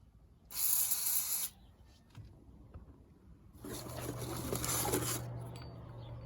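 Lubricant sprays onto the bolts of a Ford truck's sway stops in two hissing bursts, a short one followed by a longer one, close and fairly quiet, with faint clicks in between.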